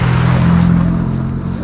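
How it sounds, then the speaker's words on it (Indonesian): A car on the road near a hillside hot-spring villa at night passes close by, a loud, steady engine rumble that holds for a moment and then slowly fades. "Eta mobil."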